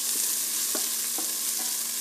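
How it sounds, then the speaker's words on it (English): Diced onion and carrots sizzle loudly in a hot pot for a seafood stew, a dense, continuous frying hiss with a few soft spoon knocks as they are stirred, close up, no voices. "Ooh, listen to it sizzle"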